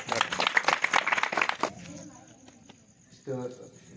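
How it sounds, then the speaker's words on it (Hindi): Audience at a Buddhist dhamma sermon in Nimbaragi village clapping, a short lively burst of many hands that dies away after under two seconds, followed by quiet and then a voice speaking. "ताली बजाइए आप"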